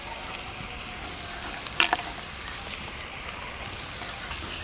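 Chopped onion fries in a pan for a vegetable paratha breakfast, a steady soft sizzle with a couple of brief clinks partway through.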